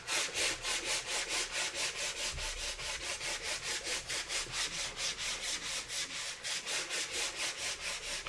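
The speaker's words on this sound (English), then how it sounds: "I'm going to take a sander and give this a light sand." Steady back-and-forth rasping of a sanding block on a wood panel, lightly sanded with the grain, rhythmic strokes repeating evenly throughout, close and fairly loud with no talking.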